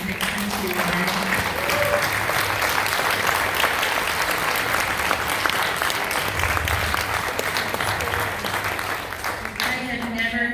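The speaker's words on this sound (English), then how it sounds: "can you just stand up and do a round of applause to this man right here?" Audience at a Belknap County Republican committee gathering applauds steadily for the full stretch, a dense, even wash of clapping with some voices mixed in.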